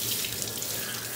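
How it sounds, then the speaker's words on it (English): Steady running water from a bathtub tap rinses a hydro-dipped camo gun stock, a continuous close splashing rush with no pauses. "So I'll just keep rinsing for a few minutes."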